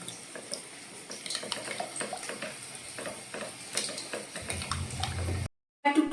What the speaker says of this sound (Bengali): এই বাটিটা ধুয়ে আমি একটু জল অ্যাড করলাম